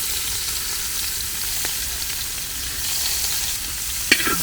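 Ginger, garlic, green chilli and onion fry in a pan previously used for frying fish. The sizzle is steady and close, with a couple of brief clinks as the food is stirred, and no one speaks.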